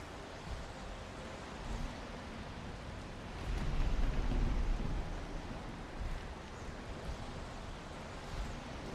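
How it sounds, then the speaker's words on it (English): Stormy weather in the Valheim video game, a steady wash of rain with a low rolling thunder swell building near the middle and fading again, no voices over it. "Thor is throwing his hammer down with a mighty thunder"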